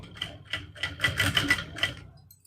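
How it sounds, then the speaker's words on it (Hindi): Sewing machine stitching down the lining of a suit, a rapid, close series of rhythmic mechanical clacks running for about two seconds before slowing and stopping. "अब जैसे हम ये सिलाई लगाते हुए आए हैं, अब ऐसे ही ये सिलाई नीचे की तरफ लगाते हुए चले जाएंगे।"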